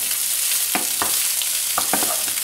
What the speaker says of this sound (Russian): Просто мы чуть-чуть так его обжариваем.